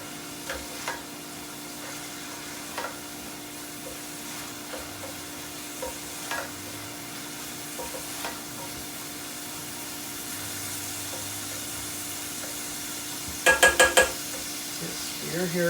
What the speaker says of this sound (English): make sure you cook it until all the fat comes out of the mushrooms